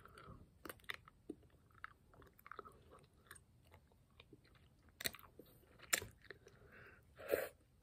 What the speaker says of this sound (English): you can chew on these